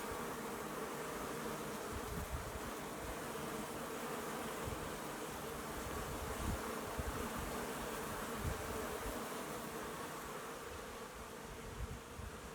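Honey bees buzz around a beehive during a spring inspection, a dense, continuous drone of many insects close by, steady and unbroken throughout.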